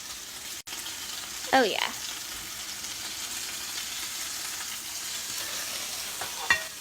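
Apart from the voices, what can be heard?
steak sizzling in a frying pan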